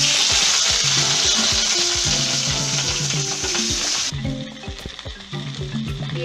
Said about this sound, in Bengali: আবার আমি কড়াই সর্ষের তেল দিয়েছি, সব আনাজগুলো আস্তে আস্তে ভেজে আমি তুলে রাখবো